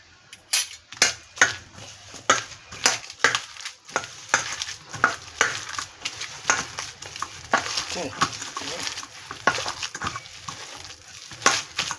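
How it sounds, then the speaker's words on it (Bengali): Fish roe is mixed by hand with gram flour and an egg into a batter, giving repeated wet squelching and slapping strokes in a steady rhythm, close and fairly loud. "বেসন আর একটা ডিম দিয়ে এটা আমি সুন্দর করে মেখে নেব।"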